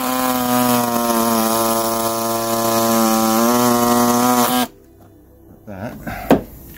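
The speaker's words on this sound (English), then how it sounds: "what I'll use a belt sander to get the majority of this out" A belt sander grinding a rusted body panel on a Ford Puma runs loud and steady with a strong whining tone, then cuts out abruptly, leaving quiet shop noise and a single sharp knock.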